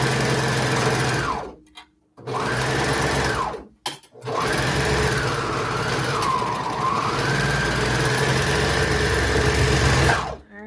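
A sewing machine stitching small baby clothes: a close, steady motor whir that rises and falls in speed, stopping briefly twice before running on, with no talking.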